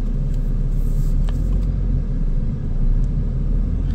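Low, steady engine and road rumble inside a moving sports car capable of racing, continuous and fairly loud throughout, with no speech.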